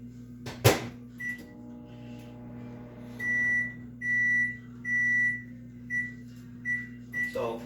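A kitchen microwave oven hums steadily with a low drone, then gives a series of short, clear beeps in an uneven rhythm, with a clatter of handling near the start and more handling at the end.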